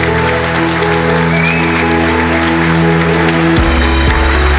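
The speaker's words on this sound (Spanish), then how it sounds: "Me salía yo por el balcón y aplaudía." Crowds applaud from city balconies at eight in the evening during the pandemic, a loud, dense and continuous clapping that fills the street.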